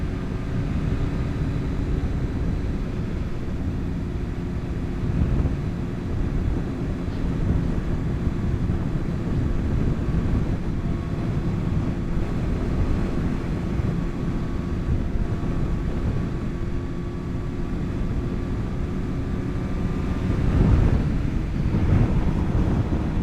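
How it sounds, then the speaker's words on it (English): Steady, loud crosswind buffeting roars across the rider's helmet at speed on a 2025 Suzuki GSXR 750 motorcycle on country roads, with a constant low rumble and no break. "Definitely a lot of crosswind."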